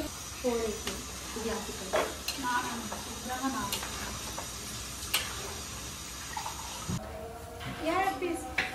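Onions frying for biryani in a home kitchen, a continuous hissing sizzle with stirring clatter and sharp utensil clicks, while people talk nearby over it.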